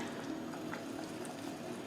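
Meat korma for haleem boils in a pot, a constant bubbling, liquid churn with soft pops, heard close and alone at a steady level for about two seconds.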